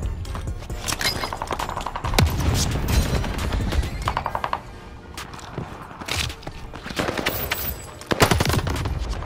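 Call of Duty Vanguard gameplay gunfire: repeated bursts and single shots crack out at close to mid range, mixed with scattered footsteps and mechanical clatter throughout.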